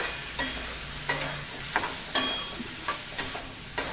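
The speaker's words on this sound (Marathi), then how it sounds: "ह्या तुपावरती हा कैरीचा किस आहे हा थोडासा परतून घ्यायचा आहे अगदी थोडा" Grated raw mango sautéing in ghee, a soft steady sizzle under regular spatula strokes scraping the pan every half second or so, close and continuous.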